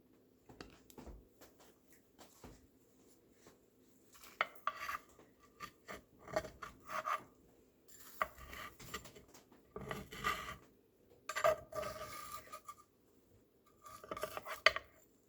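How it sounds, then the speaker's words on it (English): Cutting into a baked turkey cranberry wreath, with knife scrapes and rasping slices against a plate or pan coming in short bursts, close and fairly quiet, with no talking. "let's cut into it and see how it looks"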